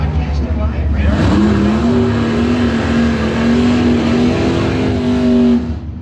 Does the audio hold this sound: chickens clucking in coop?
no